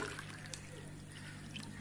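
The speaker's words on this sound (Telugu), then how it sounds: "ఆ గ్లాస్ లో హాట్ వాటర్ వేసుకోవాలి" Hot water is poured into a glass with a soft, continuous trickling splash, faint and steady for under two seconds.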